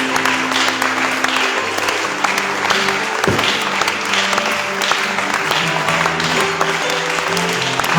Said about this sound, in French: Nous acclamons fortement le Seigneur.